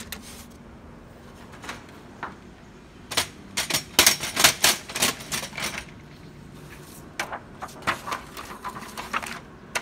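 An HP Color LaserJet MFP M479fdw printer runs, giving a cluster of sharp mechanical clicks and clacks, densest in the middle, over low background hiss.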